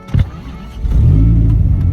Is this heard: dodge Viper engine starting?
yes